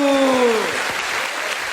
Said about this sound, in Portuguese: A todos vocês uma salva de palmas, gente.